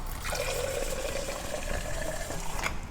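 Warm water runs into a container to mix a lemon drink, a short steady trickling pour with a rising filling tone, quiet and close, then stopping near the end.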